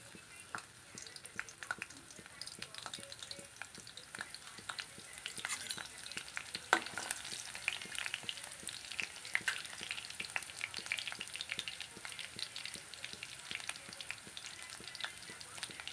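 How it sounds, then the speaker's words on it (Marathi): Five or six crushed garlic cloves fry in hot oil, a faint, steady crackling sizzle with scattered sharp pops, continuous and close, with no one speaking. "तेल कडलं आहे त्यामध्ये लसणाच्या ठेचलेल्या पाच सहा पाकळ्या आपण टाकायच्या"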